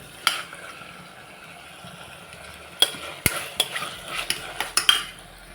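Onions and tomatoes sautéing in a pan for baby jackfruit biryani, a low background sizzle broken by a run of sharp spoon-on-pan scrapes and clacks in the second half.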